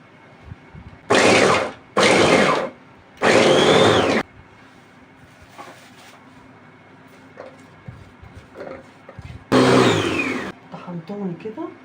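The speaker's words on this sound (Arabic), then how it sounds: "وهنضربهم ضرب جامد، نفرمهم" An electric blender minces onion and rice for kofta in loud whirring bursts: three short runs, a pause with quieter handling and speech, then a fourth burst, with more talk at the end.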